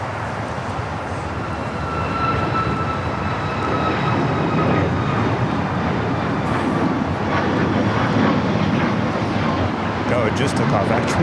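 A jet airliner takes off at LAX in the distance, giving a loud, steady, broadband roar that holds for the whole stretch without a break.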